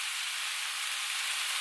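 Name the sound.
cabbage frying with bacon and onions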